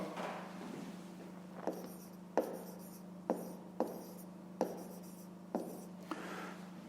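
A pen scratches across paper while working a fifth-grade math exercise, laid down in short strokes with sharp taps between them, quiet and close in a still room.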